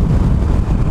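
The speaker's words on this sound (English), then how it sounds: "that's a pretty good wind. She's trying to it's kind of hitting me" Strong wind buffets a rider on a Harley-Davidson Iron 883 motorcycle, a loud, continuous low roar of gusts hitting the microphone, with no talking.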